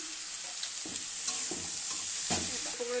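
Pumpkin frying in a pan with salt and turmeric, a steady close sizzle broken by several scraping stirs of a spatula across the pan, with no voices.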